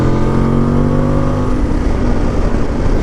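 A Voge DS800X Rally motorcycle engine revs up, a loud, close, throaty roar that climbs and then settles into a rough, steady drone.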